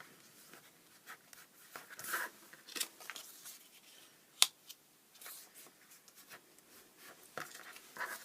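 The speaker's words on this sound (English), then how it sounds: "we can just trim off that folded piece" Scissors trim a folded paper piece in a quiet crafting session, producing soft, scattered snips and light paper rustles with one sharper cut, close and faint.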